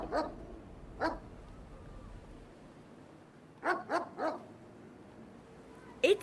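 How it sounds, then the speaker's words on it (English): A dog barks in short, sharp bursts, a single bark, another a second later, then a quick run of three and a final double bark, fairly close over a quiet background. "So next time your dog starts barking and acting strangely, check the weather."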